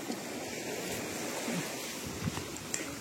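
Sea waves wash onto a fine-sand beach in Calauag, Quezon, a steady, soft rushing surf mixed with wind noise on the microphone and no talking.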